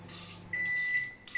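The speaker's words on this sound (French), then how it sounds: "la cuisson au micro-ondes des oignons et de l'huile est faite" A microwave oven beeps after cooking onions and oil: a steady high electronic tone sounds for about half a second, then a second shorter beep follows over a faint kitchen hum.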